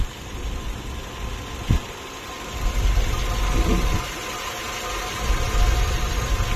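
A Hyundai Tucson 2.0 CVVT 16-valve DOHC engine idles quietly with a low steady rumble, a brief sharp knock near the start and slight swells in level.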